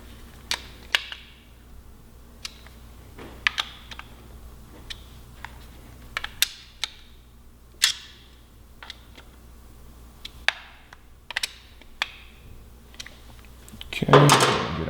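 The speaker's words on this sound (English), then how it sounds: "And now I'll give them their final torque. I'm going to run around these a couple times" A torque wrench tightens the engine case cover bolts on a 2017 Yamaha R6, giving a series of quiet, sharp clicks spaced about a second apart. A louder clatter of handling comes at the very end.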